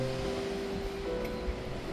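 Steady broadband roar of Southern Ocean surf off the Australian coast, continuous and moderately loud with no voices, a low hum running underneath.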